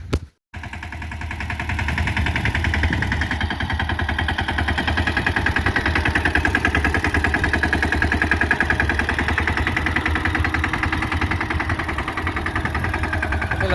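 A tractor fitted with a tine cultivator idles steadily while a field is prepared for winter sowing after unseasonal rain, its engine chugging in a fast even rhythm, loud and close, after a brief knock at the start.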